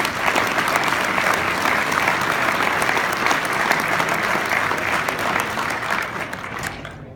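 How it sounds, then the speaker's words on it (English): Sustained, dense applause from a conference audience for the organizing committee at an evening awards gathering, steady and loud throughout with no speech over it. "everybody on the organizing committee deserves a round of applause here tonight"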